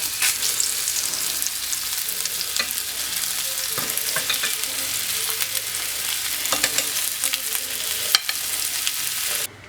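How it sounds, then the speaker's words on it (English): Beef short ribs browning in melted fat in a hot pan give a steady, close sizzle and crackle for the whole stretch, with a few brief clatters and scrapes of meat being moved. "And we will brown our short ribs."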